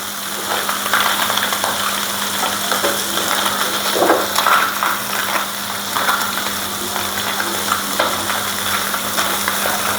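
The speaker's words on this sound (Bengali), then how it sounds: "মাছটার এক সাইড ভাজা হয়ে গেছে" A small fish fries in a pan of hot oil, making a loud, dense crackling sizzle that runs throughout, with a few sharp pops and a faint metallic clink near the middle.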